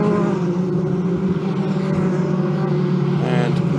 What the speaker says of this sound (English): So the safety car is leading the cars through turn number 9 now and heading towards turn number